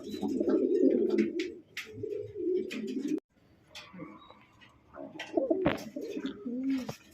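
A pair of red Siraji pigeons in a pot nest coo close by in low, throaty repeated bursts, broken by a brief pause, while faint chirps and a few sharp knocks sound in the background.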